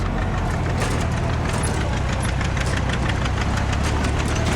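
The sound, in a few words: John Deere 8 tractor engine running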